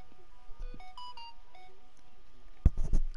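A mobile phone rings during a fishing trip with friends, sounding a short series of bright electronic beeps that ends in some louder handling noise.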